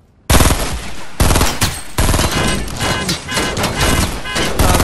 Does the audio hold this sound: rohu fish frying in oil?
no